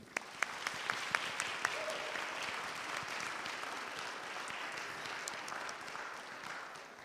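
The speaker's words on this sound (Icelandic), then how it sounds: "Ef ekki að klappa fyrir þeim og fjölskyldu þeirra." Congregation at Lindakirkja church clapping for the spring confirmation children and their families, a full, even roar of applause filling the room, with a few sharp louder claps standing out near the start.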